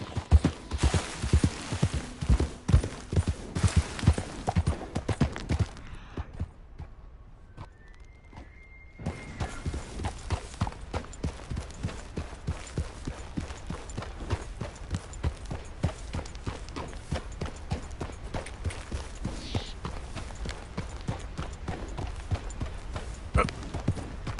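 Horse hooves clip-clop at a quick, steady trot in the Red Dead Redemption 2 video game, close and rhythmic, with a brief quiet break before the hoofbeats resume and carry on to the end.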